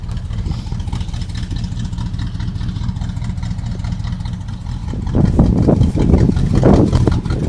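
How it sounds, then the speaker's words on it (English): An old Chevrolet squarebody plow truck's engine idles with a steady, low rumble. After about five seconds the engine rises into a rougher, louder run with uneven pulses, and no one speaks. "I'm gonna go get a screwdriver and raise that idle a little bit."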